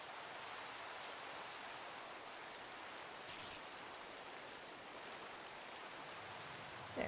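Steady rain in the video game Minecraft, a continuous even hiss of falling rain that fills the whole stretch with no talk over it.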